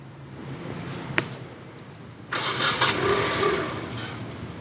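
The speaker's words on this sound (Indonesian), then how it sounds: "Lalu mesin kita starter." A Hyundai Trajet XG car engine cranks over during an automatic transmission fluid flush, a short starter whir catching into a steady running engine that stays loud and close after a faint click.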